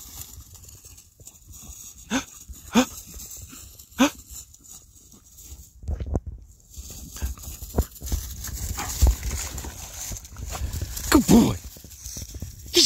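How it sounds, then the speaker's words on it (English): A Boykin Spaniel plays in water, with scattered splashy thumps and short bursts of movement, a few sharp yelps or barks rising over background noise. "He's a water dog."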